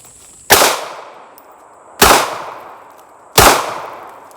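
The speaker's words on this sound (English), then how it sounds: "Three shots from the 9mm." Three sharp 9mm pistol shots fired at a melon, spaced about one and a half seconds apart, each a loud close crack with a short decaying tail and no talk.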